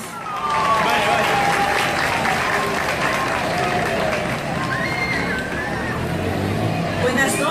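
Applause from the audience at a Miss Ecuador candidate presentation in Naranjal, a steady wash of clapping and crowd babble under a loud announcer's voice throughout.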